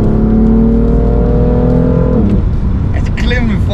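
A BMW M4 GT4 engine revs loudly and climbs steadily in pitch, then drops off as another sound and voices come in.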